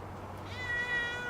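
A pet cat gives a single drawn-out meow in a quiet room, close by and clear, rising and holding steady near the end.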